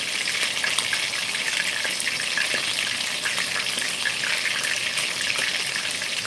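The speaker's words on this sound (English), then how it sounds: "So you see that sizzling sound? That's what you wanna get when the oil is heated" Hot oil sizzles steadily in a pot, ready for browning chicken for a brown stew, a bright, continuous crackling hiss with small pops, close and fairly loud, with no talking.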